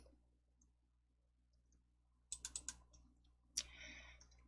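A computer mouse clicked in a quiet room, with a quick cluster of crisp clicks followed by a sharper single click and some soft desk handling noise, close and faint against low background hum.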